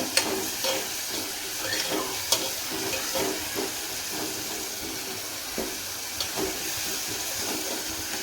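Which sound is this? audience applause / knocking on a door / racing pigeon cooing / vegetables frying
vegetables frying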